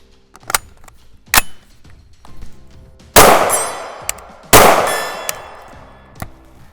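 KRISS Vector 10mm rounds striking steel targets on a range, giving several sharp metallic clangs and two louder ringing impacts with long decays, spaced irregularly, with no voices.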